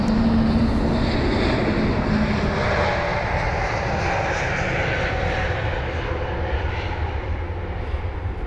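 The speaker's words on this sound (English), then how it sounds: "To Munich goes a Lufthansa 320neo" A Lufthansa A320neo jet departs Heathrow with a loud, steady engine roar that holds throughout and eases slightly toward the end, with no voices over it.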